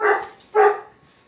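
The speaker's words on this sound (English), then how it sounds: "I breed St. Bernards, which you're hearing right now" Two loud, close barks from St. Bernard dogs come about half a second apart, each a deep, full woof that fades quickly into quiet.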